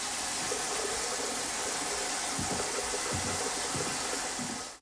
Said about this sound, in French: Ouvrez maintenant le robinet d'eau chaude qui se trouve le plus près du chauffe-eau afin d'évacuer toute l'eau